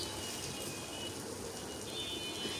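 Egg sizzles in hot oil with fried bitter gourd, a steady dense crackle and hiss close up throughout, with no talking.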